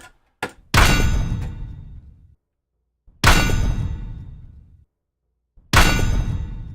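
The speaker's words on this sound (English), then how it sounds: "No, that one sounds like a bell here." A bell-like sound effect rings out three times, each a sharp metallic clang with a short ringing decay, separated by pauses, loud and close with no talking.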